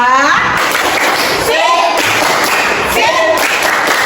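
Elementary school students in a classroom clapping a rhythmic salute cheer for a discussion group, a few bursts of claps and thumps mixed with chanting young voices, close and loud.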